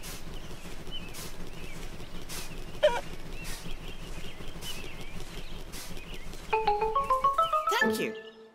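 Chickens cluck softly in the background of a Peppa Pig cartoon, then a burst of louder, rapid squawking clucks rises near the end before cutting off.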